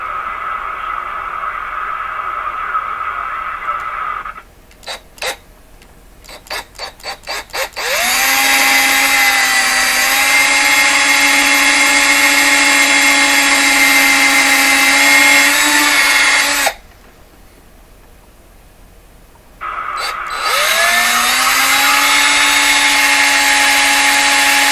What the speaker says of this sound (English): I drilled 3 holes.